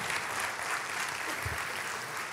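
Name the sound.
church congregation applauding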